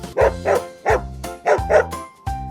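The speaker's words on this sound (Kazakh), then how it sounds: "Ит. Ау дейді" Cartoon dog in a Kazakh children's song barks in five bouncy, evenly spaced woofs, loud and close, with no talking over them.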